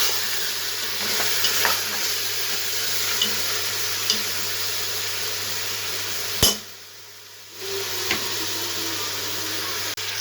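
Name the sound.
mutton frying with garlic and ginger paste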